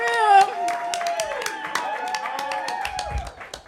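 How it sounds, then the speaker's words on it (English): Comedy club audience clapping for a comedian at a live stand-up show. Scattered, uneven claps and a few whoops sound under a loud, close voice speaking over them. "Keep clapping."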